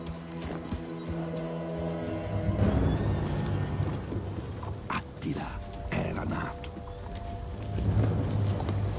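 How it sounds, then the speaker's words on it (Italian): Horse hooves clip-clopping in a Total War: Attila cutscene, a black horse carrying its rider with steady plodding steps under a narrator's voice and a swelling dramatic score. "Ed ecco un cavallo nero e colui che in sella aveva un paio di bilance nelle mani."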